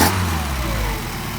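A car engine running on Solex carburetors idles close by with a steady, even drone and no voices.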